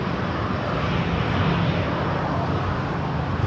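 A United Airlines Boeing 737-900ER landing at LAX, a steady broadband jet roar holding at an even level from a moderate distance for the whole stretch, with no talk over it.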